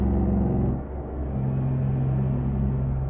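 A heavy truck engine in American Truck Simulator rumbles and hums steadily at close range, with a deep low drone, a brief dip in level, then a sustained run at even revs and no talking.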